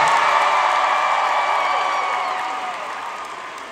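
Large concert crowd at a show in Detroit applauds, whistles and cheers for the opening act, a dense, sustained roar of clapping and whoops that slowly tapers off.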